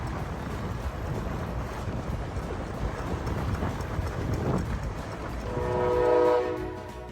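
A train rumbles across a Chicago railroad bridge heard from a boat waiting on the river, steady clattering wheels throughout, then a loud sustained horn blast near the end.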